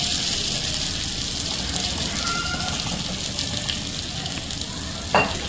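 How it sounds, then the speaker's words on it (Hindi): Chicken satay skewers frying in a pan over medium-high heat give a steady, close sizzle that holds throughout, with a faint clink near the end and no talk. "स्क्वायर्स को मीडियम टू हाई के दरमियान हम कुक करते हैं।"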